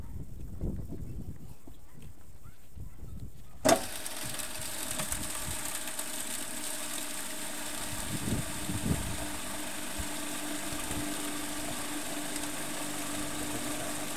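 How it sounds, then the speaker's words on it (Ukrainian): A modified grain crusher with a slow 1000 rpm motor starts with a sharp click and then runs with a steady mechanical whir and rattling hum, with a few faint knocks along the way. "Для цього ми скористаємося звичайною зерновою дроборкою для дерті, але вона перебладнана."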